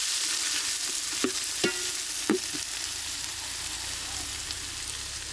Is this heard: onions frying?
yes